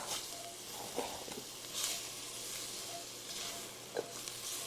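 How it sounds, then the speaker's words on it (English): Dry spices fry in a pot of chili as they are stirred, producing a steady soft sizzle and hiss with a few scraping stir sounds, heard close up and alone. "Definitely want to keep stirring"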